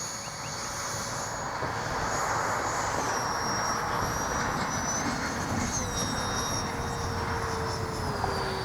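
A 3D-printed RC jet plane flies overhead, its engine a steady, loud whining roar with a high turbine tone that shifts slightly in pitch as it passes, with no talk.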